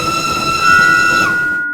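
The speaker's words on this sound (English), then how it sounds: "Suddenly, there was a whistle." A steam engine's whistle on a railway at night, in a Thomas and Friends story about a haunted signal-box, sounds as one long, loud steady blast that bends slightly in pitch before cutting off, with no talk.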